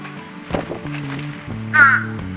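Fish crows cawing at a feeding spot with peanuts during molting season, a few loud harsh calls rising near the end, with softer bird sounds and background noise around them.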